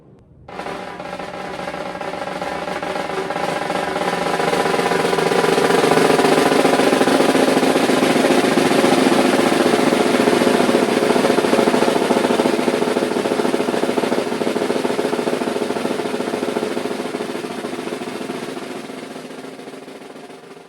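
A snare drum buzz roll played at an even hand speed, a dense continuous sizzling rattle that starts soft, swells steadily louder, and holds near full volume before easing slightly at the end, with no voices.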